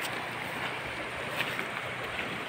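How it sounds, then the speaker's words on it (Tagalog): Stream water in a rural barangay in Mainit, Surigao del Norte, rushing steadily and loudly at close range, a dense continuous wash without pauses and no voices. "Pero agos ng tubig dito."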